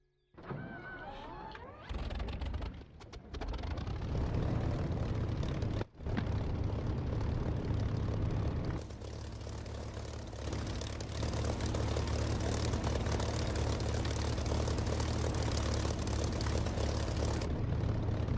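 A propeller warplane engine in a DCS or War Thunder flight sim spins up from a starter whine into a loud, steady roar, dipping briefly before settling into a continuous throttled-up drone; no voices.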